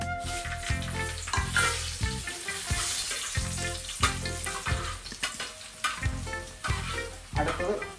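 Dried red chillies frying in hot oil, a steady close crackling sizzle with repeated rhythmic stirring scrapes throughout, fairly loud and continuous, with no voices.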